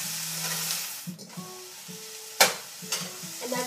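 Kale and garlic sizzle in a pan while being tossed, giving a soft steady frying hiss broken by a few sharper scraping and stirring clatters, close and fairly quiet.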